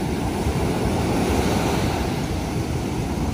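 Cold ocean surf rolls onto a beach on the Vineyard as the tide creeps in, a loud, steady wash with heavy wind buffeting the microphone throughout.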